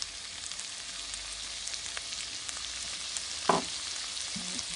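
Food sizzles and fries steadily in a wok over medium-high heat with soy sauce added, a continuous close crackle with one brief louder scrape of stirring near the end.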